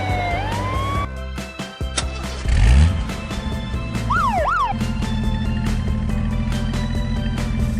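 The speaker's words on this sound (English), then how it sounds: "Green ambulance." Cartoon ambulance siren in a children's colors nursery cartoon with race cars and superheroes, a short wailing siren sweep rising and falling over bright background music, followed by a steady tone.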